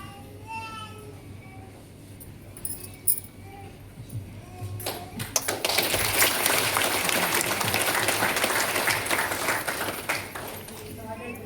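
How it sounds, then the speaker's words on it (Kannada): Audience applause at a Malabar Gold and Diamonds charitable trust event: scattered claps and talk at first, then a full burst of crowd clapping that swells and holds to the end. "ಬಿಡಿ ಚಪ್ಪಾಳೆ."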